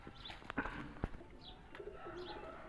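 Safaid Chatri low flyer pigeons coo softly nearby, a few quiet, throaty calls mixed with faint chirps and a light wing flutter over a low background hum.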